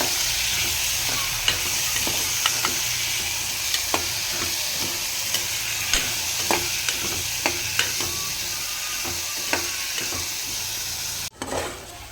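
Peas, cauliflower and potatoes fry in hot oil with a steady close sizzle, punctuated by repeated scraping clicks of a spoon stirring against the pan, ending in a brief louder clatter.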